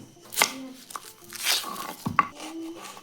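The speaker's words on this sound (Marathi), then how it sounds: "सर्वात आधी कांदा कापून घेते" A knife chops onion on a board in a few irregular, sharp cuts, close by, with brief quiet gaps between strokes.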